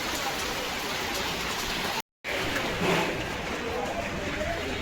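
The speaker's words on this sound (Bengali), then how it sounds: "বৃষ্টি এখনো পড়ছে গো" Rain falls steadily outdoors near a market, a dense even patter and hiss that continues throughout, broken only by a momentary gap.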